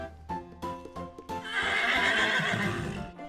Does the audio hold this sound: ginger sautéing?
no